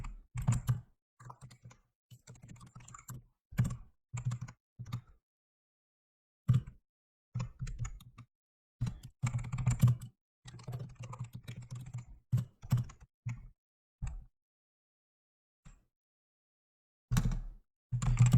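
Close, dry clatter of typing on a computer keyboard while writing shader code, in uneven bursts of keystrokes separated by short pauses, no voices.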